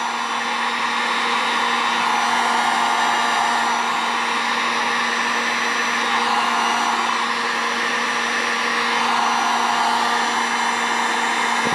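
Steady, loud blowing whir of a heat gun running continuously without pause, aimed at a fuel pump hose during a Taco Moto Co fuel pump and filter install in a KTM/Husqvarna pump module.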